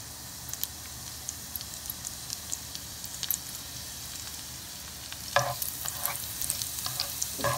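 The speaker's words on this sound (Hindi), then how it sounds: "अब हम इसमें गार्लिक डालेंगे, इसको गोल्डन कर लेंगे" Garlic frying in hot oil in a pan, a steady soft sizzle with occasional stirring clicks, growing brighter and crackling more toward the end.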